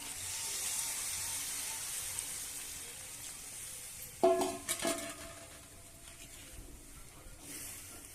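Water goes into a pan of fried mutton for a jackfruit curry, and a brief louder splash and burst of sizzle rise out of a steady background hiss before settling back.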